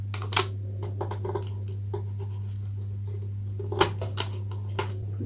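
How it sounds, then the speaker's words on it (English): Scissors snip through covering material being fitted onto a large Da Vinci flyer model, a scattering of sharp, close cuts and scratchy rustles over a constant low electrical hum. "Let's see if I cut that there."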